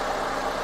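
A Perodua Myvi 2009 with a 1.3-litre 16V twin-cam four-cylinder engine idles in a steady, smooth, even hum, close and continuous with no talk.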